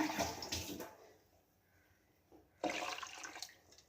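Water is poured into a pot of parava fish curry in two bursts of splashing, separated by a brief quiet pause, heard up close.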